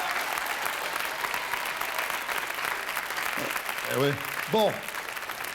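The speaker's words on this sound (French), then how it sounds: "Ouais, on peut l'applaudir." Applause from a TV studio audience fills the clip as a steady dense patter, with voices talking over it near the end.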